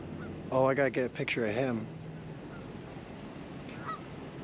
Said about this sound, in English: Wow, look at that, some geese. So many geese out here today.